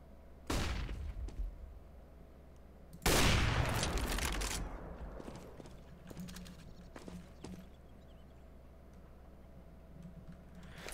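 A flashbang grenade thrown in Counter-Strike: Global Offensive, heard as a loud burst followed by a second bigger blast around three seconds in that rings and decays, with faint game clicks and footsteps trailing afterward.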